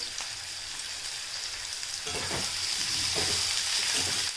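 Onions frying in oil for a dry fish masala gravy, a continuous hissing sizzle that grows louder midway as the pan is stirred with scraping strokes.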